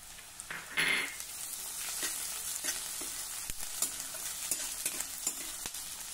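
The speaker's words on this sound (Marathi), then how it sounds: "आपल्याला अगदी हलकाच परतून घ्यायचा आहे, खूप परतायचा नाही" Vegetables and chopped green chili are sautéed briefly in a pan, a close, steady sizzle with a burst of louder hiss near the start and light ticks of stirring throughout.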